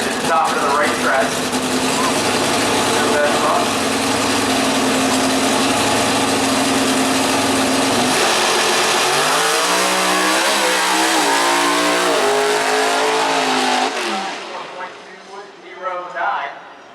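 A drag racing car roars down the track at a PDRA shootout at Maryland International Raceway, a loud sustained engine howl that rises in pitch as it pulls away and fades near the end.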